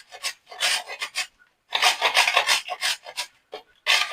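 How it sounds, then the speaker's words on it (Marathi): Raw green mangoes are grated by hand, giving bursts of close, rasping scrapes in quick rhythmic strokes with brief pauses between runs. "आपण आंबे किसून घेऊया."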